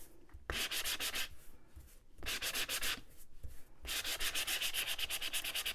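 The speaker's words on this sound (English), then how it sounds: "our hat, which we're going to rough up again with our sandpaper" A paper hat piece for a card roughed up with sandpaper, three bursts of brisk rhythmic scratching strokes, close and steady, separated by short pauses, with no talk.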